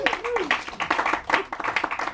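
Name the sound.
audience applause for comedian Zeb Naiditch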